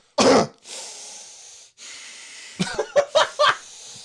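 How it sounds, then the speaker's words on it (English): Heavy, raspy breathing heard in the 1984 film A Nightmare on Elm Street: a sharp cough-like burst, long wheezy inhales and exhales, then a string of short snorting gasps, close and loud. "you can hear him breathing"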